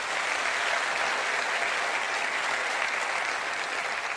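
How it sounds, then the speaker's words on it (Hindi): An audience at a Hindi motivational seminar gives loud applause for uplines, a thick, steady roar of clapping that holds at full strength throughout the few seconds with no speech over it. "एक जोरदार तालियां अपलाइनों के लिए होनी चाहिए।"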